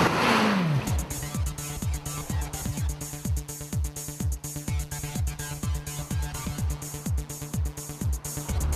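A car engine runs steadily nearby with a regular, repeating rhythmic thumping beneath a continuous drone, as if driving along at a constant pace.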